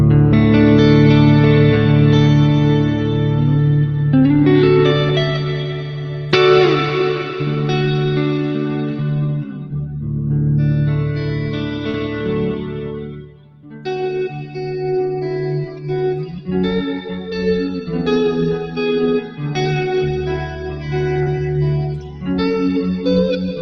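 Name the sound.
guitar through plate-style reverb pedal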